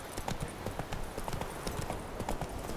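Roach, Geralt's horse in The Witcher 3, gallops with a fast, rhythmic clatter of hoofbeats that stays close and fairly loud throughout.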